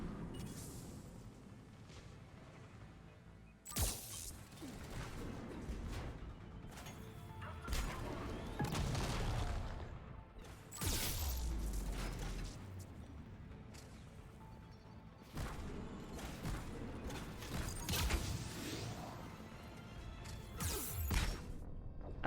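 Enemy grenades burst repeatedly in a Mass Effect 3 firefight, a series of loud booming crashes spaced a few seconds apart over continuous battle noise.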